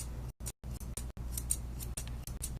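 Curved grooming scissors trim a Maltese puppy's white coat in quick repeated close snips, an irregular run of crisp metallic cuts with brief pauses.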